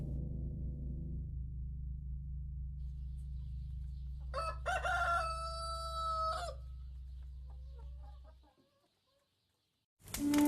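A rooster crows once, a loud, clear cock-a-doodle-doo over a low droning backdrop that soon fades to near silence before a brief burst of sound at the end.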